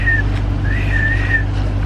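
Two thin, high tugboat whistle tones sound a short one then a longer one, over a constant low engine rumble, moderately distant.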